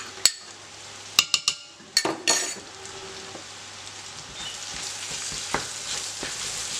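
Crushed spices are stirred into smoked sausages frying in a pan: a few sharp utensil knocks and scrapes at the start, then a steady sizzle that continues quietly to the end.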